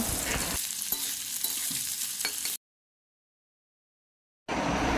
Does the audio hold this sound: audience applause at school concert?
no